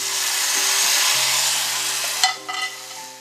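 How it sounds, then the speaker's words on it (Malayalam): Curry leaves and dried red chilies sizzle hard in hot tempering oil with mustard seeds for a mango pulissery, a loud steady crackle that fades after about two seconds into a few scattered pops. "ഈ ഒരു തണ്ട് കറിവേപ്പില ഇട്ട് കൊടുക്കുക കുറച്ച് വറ്റൽമുളക്"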